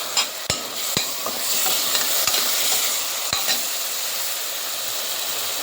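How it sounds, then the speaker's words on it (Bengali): Red chillies fry in a very hot wok, giving a steady close sizzle broken by a few sharp scrapes and clanks of a stirring spoon, with no talk. "দিয়ে দিচ্ছি লাল মরিচ।"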